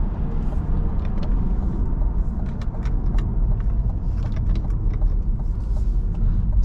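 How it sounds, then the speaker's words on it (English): A 2023 Cadillac CT5-V drives along with a steady, close, loud low engine rumble and turbo sound under a constant road drone, with faint clicks and rattles inside the cabin. "You can hear that turbo."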